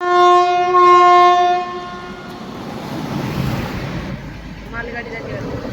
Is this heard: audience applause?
no